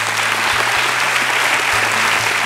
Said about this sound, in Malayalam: വലിയൊരു കൈയടി